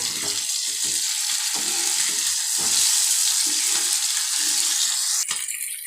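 Fish sizzles and fries steadily in a pan with curry leaves, a bright continuous crackle broken by repeated clattering and scraping as the pieces are turned.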